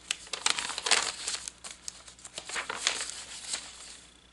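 Paper pages of a handmade junk journal baby book being flipped, a steady run of soft crinkling and rustling turns with no talking.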